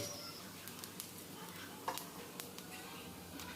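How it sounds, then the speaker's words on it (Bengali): Whole cumin seeds sizzling in hot oil in a pan for a ridge gourd and potato curry, a faint, steady crackle with scattered small pops and light stirring clicks. "এবার তেলের মধ্যে দিয়ে দিলাম গোটা জিরে"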